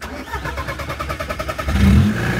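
A Polo car fitted with nitro revs its engine in rapid pulsing bursts, the rhythm quickening before a deep, loud surge near the end.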